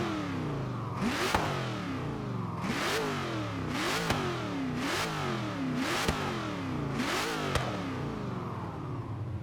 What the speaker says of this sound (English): I want to hear this big V8